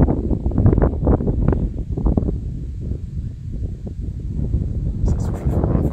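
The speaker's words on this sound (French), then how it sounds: "ça souffle fort." Strong gusting wind buffets the microphone outdoors at an RC flying field, a loud, uneven low rumble that surges and eases for several seconds.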